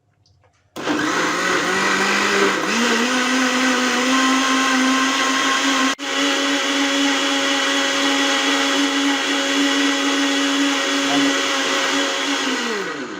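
An electric blender whirs steadily as it blends green chilies, roasted cumin powder and a little water for borhani, starting abruptly with a loud, even motor drone that holds for about twelve seconds and briefly dips partway.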